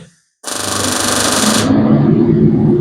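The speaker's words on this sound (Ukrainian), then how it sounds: "Вентилятор у нас увімкнувся, і поки ми варимо, апарат працює, вентилятор працює." A Digi Tig 250 AC DC welder strikes an arc after silence with a sudden loud, buzzing hiss that holds for about a second, then drops to a steady cooling-fan hum and arc drone.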